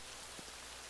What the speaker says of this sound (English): Oh, it's gonna rain.